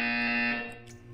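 A steady electronic buzzer tone in Portal 2 sounds loud and close, holding evenly for about a second before it starts to fade.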